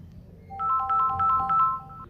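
A phone ringtone plays a repeating electronic melody in short bursts, clear and close, lasting about two seconds.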